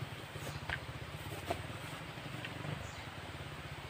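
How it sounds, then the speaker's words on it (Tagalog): A motorcycle engine, faint and distant, hums steadily with a low uneven putter that swells slightly, accompanied by soft rustling and a few small clicks, no one speaking. "May motor nga ah."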